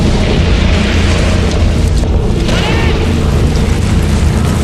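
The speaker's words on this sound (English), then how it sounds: "The explosions roll down the sewer, destroying every street above." Underground gas explosions tear through a city sewer beneath Guadalajara streets. A deep, continuous roaring rumble fills the whole stretch, loud and dense, with no talking.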